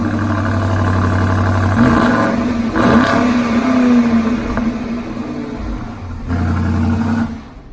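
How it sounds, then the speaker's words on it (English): A 2020 BMW X7 M50i's 8-cylinder engine revs loud and close in several strong bursts, climbing and falling between steadier stretches of engine rumble with no talking. "that's what gets you 523 horsepower, 550 or so pounds of torque from this 8-cylinder engine"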